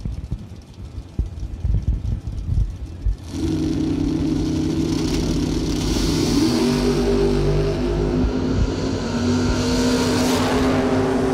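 A '67 Chevelle and a Camaro launch in a drag race, rumbling idle giving way to a sudden loud roar of engines revving hard and pulling through gears, close by.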